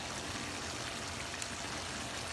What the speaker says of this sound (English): So I'm going to add this coconut milk now.